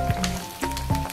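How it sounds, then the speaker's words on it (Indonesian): Eggplant pieces fry over high heat in about 200 ml of hot oil, giving a soft, steady sizzle broken by a few brief crackling bursts, close and fairly quiet. "Saya akan menggoreng terongnya setengah matang aja Bunda."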